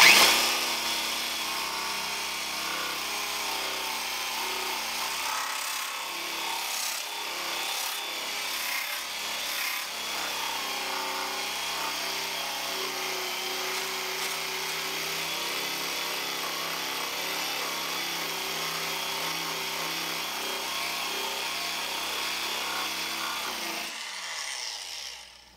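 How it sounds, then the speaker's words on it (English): A steady, gritty grinding hum runs continuously for about twenty-five seconds from a Black & Decker quarter-inch variable-speed drill removing rust from a two-man saw, then cuts off. "this little Black & Decker quarter inch drill motor, it's a variable speed"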